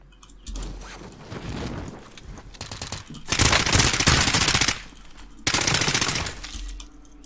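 A PKM machine gun fires in Call of Duty Warzone, ripping out three loud, sustained bursts of rapid automatic fire separated by short pauses.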